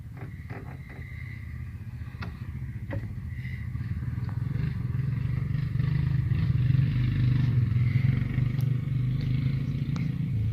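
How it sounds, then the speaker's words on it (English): A group of motorcycles rumbles past outdoors on a road near Bear River, the low engine drone building steadily in loudness as the bikes draw closer and pass, with faint clatter mixed in. "Alright, those bikers are coming back."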